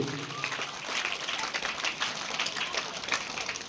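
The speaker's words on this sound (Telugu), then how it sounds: "మీకు గట్టిగా చప్పట్లు కొట్టి వారికి అభినందన తెలియజేయాలని చెప్పి" An audience applauds at a school gathering where an MLA announces a donation. The clapping is a continuous, fairly faint patter lasting a few seconds.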